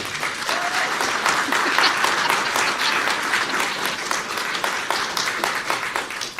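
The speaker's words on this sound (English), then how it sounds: "Let's give a round of applause" Audience applause at a conference in Stony Plain as a speaker is introduced, a sustained, even roar of many people clapping close by, with only faint crowd noise.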